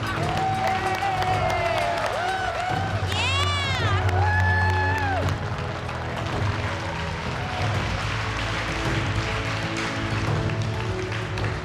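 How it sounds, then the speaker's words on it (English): Competitors back in the MasterChef kitchen cheer and shout together in a loud, continuous crowd roar with excited whoops and voices throughout. "All the competitors back in the MasterChef kitchen to cheer you all on into the final."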